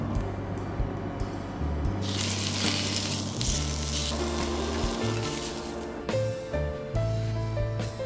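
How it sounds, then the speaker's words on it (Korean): Kimchi stir-fries in a pan still greasy from pork belly, sizzling loudly and steadily up close, with a few stirring scrapes and faint musical tones under the frying. "한 번 더 남은 삼겹살을 구워주고 그 팬에 김치를 살짝 볶아줍니다."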